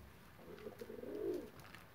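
Gift pigeons coo softly at close range, one low, rolling call swelling and fading against quiet outdoor background noise.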